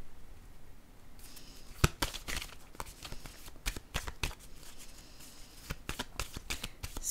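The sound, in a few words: handling cards during a card reading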